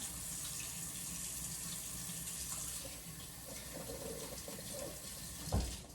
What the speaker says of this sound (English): I'm gonna go wash my hands real quick